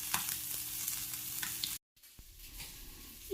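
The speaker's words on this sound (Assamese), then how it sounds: "এতিয়া মই সিপিটিত ভাজি ল'ম" Mowa fish frying in hot oil, a steady close sizzle that cuts out briefly, as if the pan is lifted, then returns with quieter crackling.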